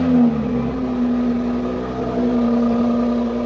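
A 2023 BMW X5 xDrive40i engine runs just after a remote start, a steady close idle hum with a faint whir.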